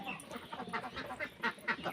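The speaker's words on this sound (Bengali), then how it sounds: "এই যে হাঁস" Domestic ducks kept at a rural family home give a few faint, scattered quacks, spread across a brief stretch with soft background noise.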